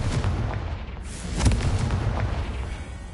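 A Confringo blasting spell goes off in Hogwarts Legacy: a heavy boom bursts out mid-clip over a rumbling, crackling game soundscape, then a rolling tail of debris-like noise follows.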